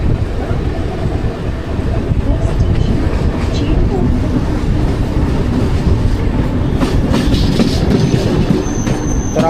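A Mumbai local suburban train runs on its tracks between CSMT and Govandi. A loud, steady rumble of the wheels and carriage carries faint clickety-clack and brief squeals throughout.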